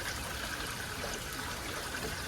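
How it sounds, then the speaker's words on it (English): Water gushes steadily out of an opened drain valve on a pipe, a close, continuous rushing flow with no talk. "So much water comes out of that at a time."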